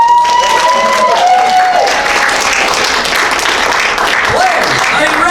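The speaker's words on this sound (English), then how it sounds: "Everyone give him a round of applause." Loud, dense audience applause from a crowd at a live comedy game show, steady clapping filling the whole stretch with scattered cheers and whoops mixed in.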